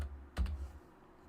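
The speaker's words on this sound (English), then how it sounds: "we're going to type coin" A single short burst of computer keyboard typing in a quiet room while entering text in Blender, a brief cluster of key clicks that then falls silent.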